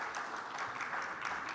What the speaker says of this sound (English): Clap of hands